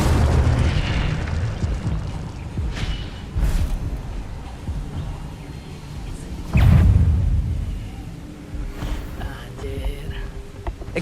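Booming fire-spell blasts from the Incendio spell in Hogwarts Legacy, several heavy bursts spread across the stretch, the loudest near the middle, with rumbling crackle between them.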